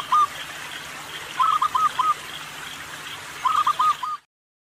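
A zebra dove (perkutut) coos in three short, soft, rhythmic phrases spaced a couple of seconds apart, clear and alone over a faint background hiss.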